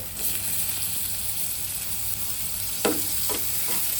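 Tomato sautéing in a pan for Maggi noodles gives a steady, close sizzle throughout, with a few brief stirring scrapes near the end.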